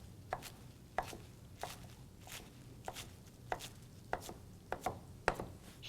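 A knife chopping spinach on a cutting board in steady, evenly spaced strokes, about ten sharp close taps over a soft background, fairly quiet with no talking.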